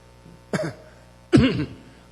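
Two separate coughs from a person with asthma, about a second apart, close and fairly loud, over a quiet room hum during an early-morning church prayer service.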